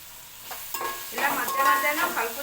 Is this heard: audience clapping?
no